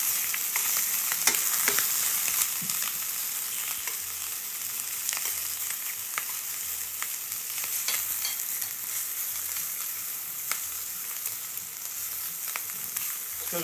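Shrimp sizzling in a frying pan for tequila and lime shrimp, a steady, bright hiss of frying that carries on throughout with occasional faint stirring clicks and no speech.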